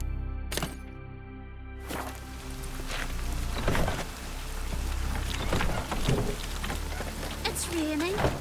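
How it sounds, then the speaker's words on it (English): Steady rain in the video game The Witcher 3: Wild Hunt patters over a low rumble, with occasional sharp cracks and splashes; a brief tonal whoosh comes near the start and a short voice-like sound near the end. "Raining."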